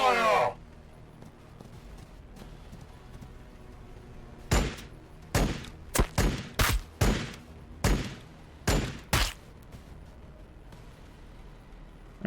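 A ragged volley of about nine loud gunshots from a battle in Warhammer 40K: Battlesector, each a sharp blast with a short tail, fired in uneven succession after a quiet stretch.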